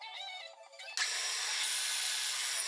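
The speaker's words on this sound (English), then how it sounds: "here I make sinkings for the heads of those bolts" A drill bores countersinks for bolt heads into a wooden workbench, starting with a brief lower whine and then a loud, steady, bright grinding rush that runs close and uninterrupted to the end, with no voices.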